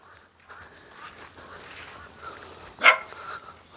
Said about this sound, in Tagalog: Hala, may aso